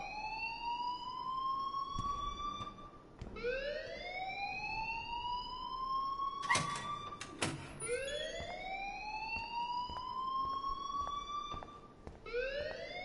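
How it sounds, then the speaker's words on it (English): An electronic fire alarm in the school setting of Life is Strange sounds in repeated rising whoops, each lasting about three seconds and cycling steadily, with a couple of sharp clattering bursts in the middle. "please turn off that alarm since that's your job"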